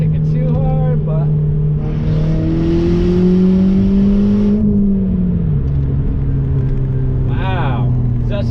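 A 2005 Volkswagen Golf GTI Mk4 engine pulls hard through the gears from inside the cabin, its loud rising drone climbing in pitch, dropping at a shift, then building again while someone talks over it.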